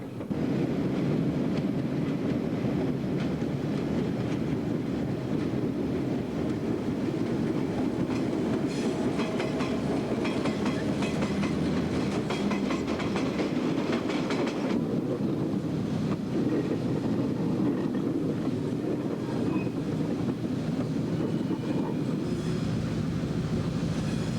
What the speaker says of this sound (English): the training special crosses this high-level steel bridge near Hooker, Pennsylvania